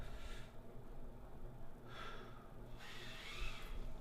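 Slow, deep diaphragmatic breaths during a squat mobility exercise, soft airy inhales and exhales close by, rising in two clear waves over a low background hum.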